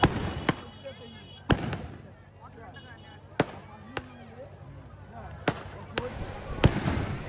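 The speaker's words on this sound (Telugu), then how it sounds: "ఈ బాంబులు అయితే రంగురంగులుగా భలేగా ఉన్నాయి ఫ్రెండ్స్, కానీ భలేగా పేలింది" Firecrackers burst at a village Nookalamma goddess festival: about eight sharp, loud bangs at irregular intervals, some close together, over a low crowd murmur and background chatter.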